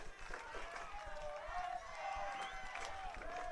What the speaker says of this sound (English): The Axemen crowd definitely back in it